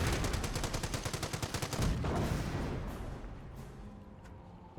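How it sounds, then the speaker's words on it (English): Gunfire in a Company of Heroes 1 match, an anti-tank gun firing against Panzer Elite forces: a quick, loud string of shots hammers out up close, then gives way to a fading rumble that trails off. "AT gun can start taking shots against the Martyr."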